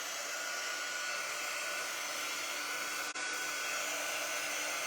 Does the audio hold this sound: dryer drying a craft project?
yes